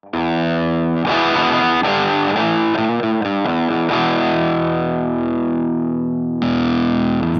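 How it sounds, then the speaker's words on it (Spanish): Electric guitar played through a Burn distortion pedal on a virtual Soldano SLO 100 or Laney TF300 amp rings out in heavily distorted, sustained chords and riffs, loud and alone, with a brief gap before a final chord. "Tenemos aquí Burn, que es un pedal de distorsión."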